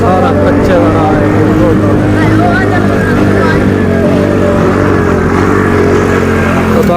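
Steady, loud motorcycle engine drone on a dirt road, recorded up close while riding, with someone talking over it almost the whole time.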